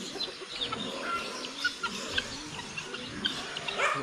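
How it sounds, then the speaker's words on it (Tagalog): A rooster clucks softly among hens on a farm, with short scattered calls spread over a faint background. "Kakarating lang ng ating tandang dito."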